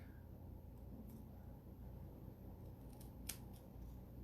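Scissors snip card stock for monochromatic card making: a few faint, brief cutting sounds with one sharper snip, heard close under a steady low room hum.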